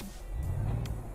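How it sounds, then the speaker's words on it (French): A truck engine in Euro Truck Simulator 2, driven in multiplayer in Scandinavia, gives a brief, close, steady low rumble that rises slightly, heard alone with no talk. "je vais baisser ça pour entendre le son du camion"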